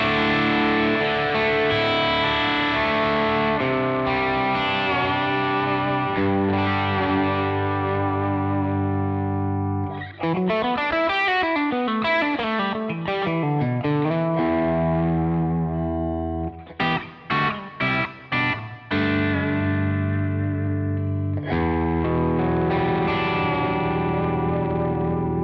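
Driven electric guitar on a 2021 PRS Studio, its humbucker pickup alone, playing sustained chords, then bending lead lines and quick staccato stabs before ringing chords return; loud, close and continuous with no voices.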